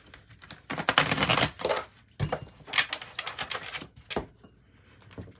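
Oracle cards are shuffled by hand in a series of quick, crisp riffling and slapping bursts, close and fairly quiet, with short pauses between the clusters.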